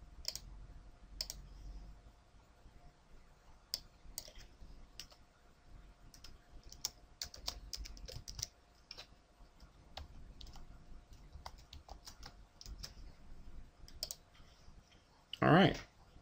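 Computer mouse clicks and keyboard typing while editing a spreadsheet chart, scattered sharp close clicks in irregular bursts over a quiet room, with a brief louder rustle near the end.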